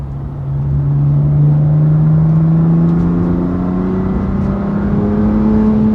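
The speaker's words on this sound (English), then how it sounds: "The car definitely sounds different, so it's making more boost." A BMW M2 CS with a Carbahn Stage 2 piggyback tune accelerates hard, its engine drone climbing steadily in pitch over road rumble, loud and close from inside the car.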